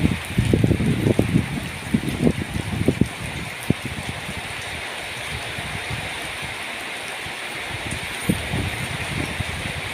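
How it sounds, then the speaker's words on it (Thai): Heavy rain pours down on a rural Thai farm on a rainy day, a steady close-up broadband hiss with scattered low splashes and thuds that swell at the start and ease slightly later, and no voices. "ฝนตกหนักมากๆนะคะตอนนี้"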